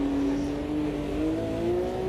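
Classic Formula One car engine in Automobilista 2 at Silverstone in changing conditions, droning steadily and loudly with a rising pitch throughout, no distinct gear-shift break standing out.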